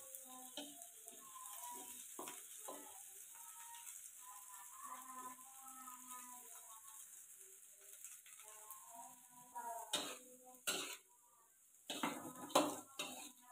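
Food stirred in a frying pan as it begins to turn light yellow: a spatula scrapes and clinks against the pan over a soft sizzle, with louder metallic clanks near the end.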